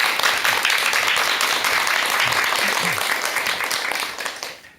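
Many hands applaud a visiting doctor as his lecture begins, the clapping dense and steady before it tapers off and fades out toward the end, with a few faint voices murmuring underneath.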